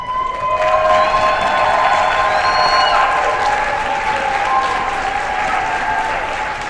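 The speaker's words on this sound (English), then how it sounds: "please join me in a warm round of applause for all of tonight's award recipients" An audience claps for award recipients at a Seattle engineering awards event, with steady, full applause, a little cheering and a few voices over it.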